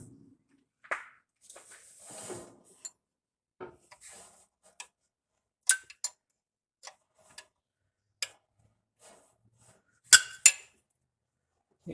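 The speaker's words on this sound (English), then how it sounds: "Tighten that with a wrench now because it changed the location a little bit." A wrench tightens a part on a Jeep, giving scattered faint metallic clicks and clinks at irregular intervals, with quiet gaps between them.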